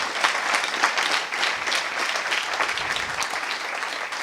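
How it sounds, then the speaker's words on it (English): A conference audience applauds after a talk, a thick, steady wash of many hands clapping at close range, with a faint cheer in the crowd. "Please give them one more applause for this whole thing."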